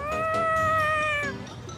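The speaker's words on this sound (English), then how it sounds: "Were you talking to that kitty?" A cat in the video game Tales of Xillia 2 lets out a single drawn-out, clear meow lasting just over a second, with a softer tail after it and no speech over it.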